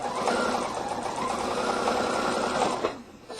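A sewing machine stitches quilt binding toward a pin, running steadily and fairly loud for nearly three seconds before easing off at the end.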